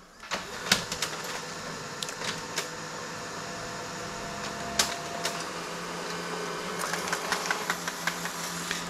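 A Brother DCP-9015CDW colour laser printer runs while printing a demo page, giving a steady mechanical whir with clicks, knocks and rattles near the start and again toward the end.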